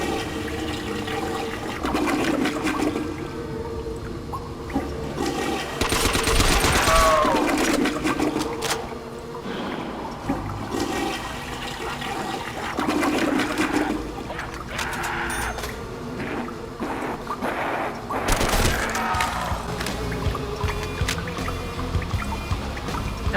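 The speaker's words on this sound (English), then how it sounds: "if you come over to the toilet and you flush it 3 times, you will hear the first ever actual music Easter egg in Call of Duty Zombies history" Toilet in a Call of Duty Zombies map flushed repeatedly, several loud rushing gushes of water rising and draining away, separated by short gaps with trickling in between.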